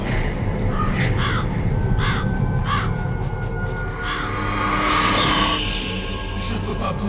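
Crows caw in a Metal Gear Solid game scene, several harsh calls repeating in bursts over a dense, steady low rumble of ambience, with a brighter cluster of caws near the end.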